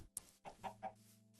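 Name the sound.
chickens clucking in Minecraft video game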